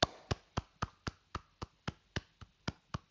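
About a dozen sharp hand claps in a steady, even rhythm, close and crisp with short decays, and no talking over them.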